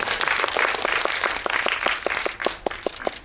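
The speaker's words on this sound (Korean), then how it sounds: "박수 한번 부탁드립니다" Cinema audience at a guest visit screening in Megabox COEX hall 8 applauds, a full round of clapping that thins near the end into a few distinct, spaced claps.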